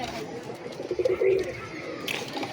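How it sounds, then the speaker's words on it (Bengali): A prized pigeon in a home loft gives soft, low cooing in a short burst, close by against quiet background noise. "আমার বাড়ির সেরা কবুতর"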